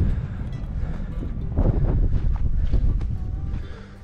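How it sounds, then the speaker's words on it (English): Strong wind buffeting a microphone on an exposed hilltop at Breidden Hill in Powys, Wales, a loud continuous rumbling roar that swells in gusts midway and eases toward the end. "It's windy up here."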